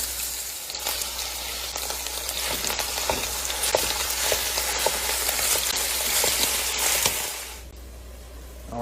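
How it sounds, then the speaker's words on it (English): Ground beef browning in olive oil in a Dutch oven, a loud continuous close sizzle with occasional stirring scrapes, easing off near the end, no voices. "the meat is browning pretty well"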